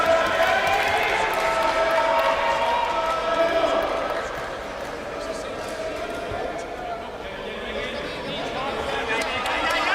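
A home crowd roars and cheers in a packed arena during a men's European volleyball match between Hungary and France, a dense sustained wall of voices that dips midway and swells again, with commentary over it.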